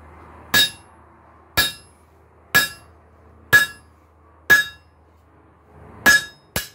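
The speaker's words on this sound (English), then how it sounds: "let's punch us about a 1/4-inch hole through there" Hand punch hammered through 5/8-inch round bar over an anvil with a chain draped across it, making seven sharp ringing metallic strikes at a slow, steady rhythm, close and loud with quiet gaps between blows.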